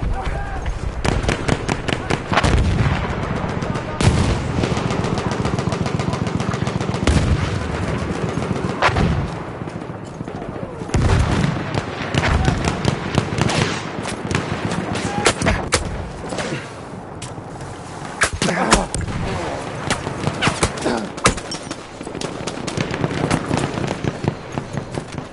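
Dense Battlefield 1 battle audio: constant gunfire and heavy artillery blasts crowd the whole stretch, loud and close, with sharp bursts and booms sitting over a thick rumbling background, and voices mixed in.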